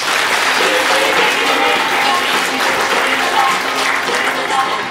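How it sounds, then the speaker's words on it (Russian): Concert audience applauds the performers with dense, steady clapping throughout, loud and close, with faint crowd murmur beneath. "Я думаю, что все мы поддержим их аплодисментами"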